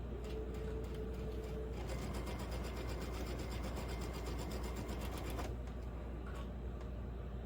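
A sewing machine stitches a quilt block in one fast, even burst of rapid needle clatter, starting and stopping cleanly, with quiet room tone on either side.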